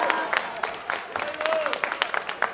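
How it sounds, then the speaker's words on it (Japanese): Crowd applause breaks out at a WRESTLE-1 pro wrestling match after a body slam, a steady scattered clapping over about two and a half seconds with a commentator talking over it. "一発のボディスラムで拍手が沸き起こります"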